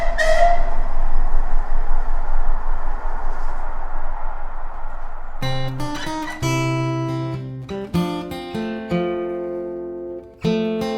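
A train runs with a rumbling, hissing noise and a whistle blast near the start. Then a band with guitar and other instruments comes in loudly and takes over the second half.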